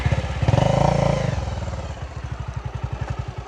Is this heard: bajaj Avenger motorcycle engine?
yes